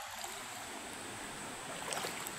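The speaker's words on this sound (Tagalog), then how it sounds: "ang ilog namin bumabaha ng lahar eh" Steady rushing of a flooding river carrying lahar, in Negros Occidental, a broad continuous wash with faint splashes, heard alone at moderate level.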